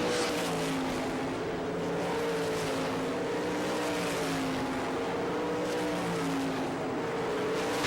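Race cars, including sprint cars, run on a Barberville, Florida dirt track during Speedweek: several loud engines drone and rev together without pause, their pitches rising and falling as the cars pass, with no talk.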